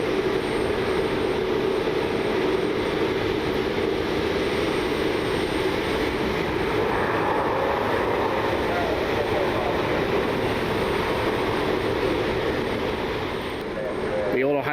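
An American Airlines jet inbound from Charlotte passes over a rainy Cleveland Hopkins airport, a steady broad engine roar sustained throughout, with rain noise underneath and the sound easing slightly near the end.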